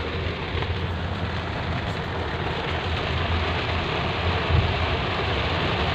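Heavy rain pours steadily in Kawak, a dense unbroken hiss of water, loud and continuous with no voices.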